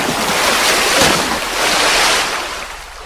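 Ocean waves surge onto a beach at a river mouth, a loud, close wash of surf that builds and falls back twice, mixed with wind buffeting.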